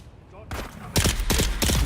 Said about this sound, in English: They're throwing so many grenades at me.